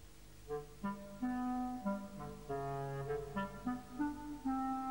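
Clarinet playing the cat's theme from Prokofiev's Peter and the Wolf, a lilting, legato melody of sustained notes and short phrases, clear and moderately loud with no voices over it.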